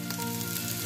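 Turmeric powder goes into hot oil already frying garlic and ginger, giving a dense, steady sizzle that holds evenly through a brief moment without voices.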